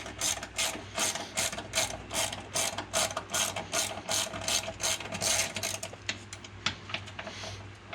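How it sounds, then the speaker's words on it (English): A ratchet wrench undoing the last bolts holding the airbox in a Ford FG Falcon engine bay, fast rhythmic clicking in steady bursts up close, slowing and stopping near the end, with no talking. "it should be a matter of just undoing these last two bolts here, and should be able to get the remaining airbox out"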